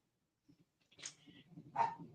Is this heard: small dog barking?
yes